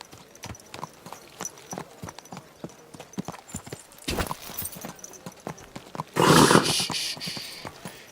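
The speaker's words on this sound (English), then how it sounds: "Easy, good horse." Horse hooves clip-clopping in Kingdom Come Deliverance II, a steady series of distinct hoof strikes at walking pace, followed by a louder burst of movement near the end.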